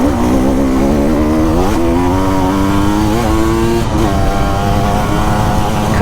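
A 2024 KTM 150 EXC dirt bike engine revving hard while riding, loud and close, pitch climbing through repeated throttle pulls with a continuous raspy buzz.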